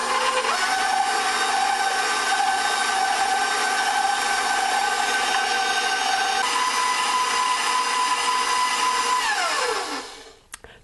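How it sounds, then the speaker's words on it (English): An electric mixer whirs steadily as it stirs ricotta dessert batter with milk and lemon zest in a bowl, running loud and unbroken for about ten seconds before spinning down and stopping. "And we give those things a good stir."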